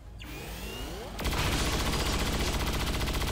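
A chain shot fired in XCOM 2, a rapid burst of gunfire that erupts abruptly after a brief swoosh and then rattles on loudly in close, continuous bursts.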